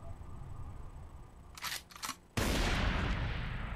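Gunfire bursts in the 50 Cent Bulletproof video game: two short rattling volleys, then a louder sustained stretch of shots and noise after a brief gap.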